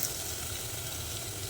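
Onions and spices frying in oil for a Kadappa gravy, a steady close sizzle with soft crackle that runs evenly throughout, with no one talking.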